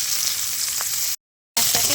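Chopped onions sizzle in hot oil with panch phoron spices in a pan, a steady close frying hiss broken by a brief silent gap, then resuming with light stirring clinks.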